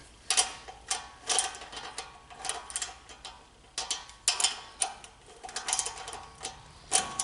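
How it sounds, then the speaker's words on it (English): Bolts with lock nuts and lock washers being tightened on a shop vise stand, giving faint, quick metallic ratcheting clicks in uneven bursts, with no voices. "All I'm doing is I'm tightening up these bolts"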